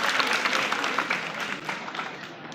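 Audience at a Sivasagar junior college celebration of Lachit Borphukan's 400th birth anniversary gives sustained, even hand-clapping applause, steady throughout with no voices over it.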